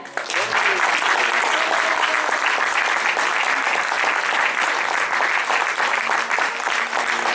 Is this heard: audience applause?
yes